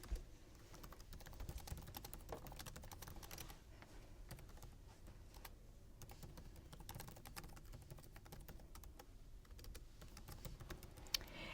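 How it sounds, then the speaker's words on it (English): A computer keyboard clatters steadily as a message is typed, with dense, fast clicks running without a break for about eleven seconds, quiet and close, no voices. "And then we'll go ahead and type our message to her."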